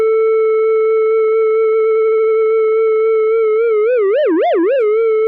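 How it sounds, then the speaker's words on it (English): A sustained tone on a Liven Mega Synthesis synthesizer holds steady, then begins wobbling in pitch with a widening, quickening sine-wave LFO vibrato before cutting off abruptly. "By default, a sine wave LFO is selected, so if we hold a note and turn this range and speed up"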